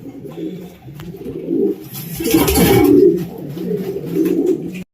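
Soft, low homing pigeon cooing repeats in a steady rolling rhythm, close by, with a brief burst of broadband noise midway.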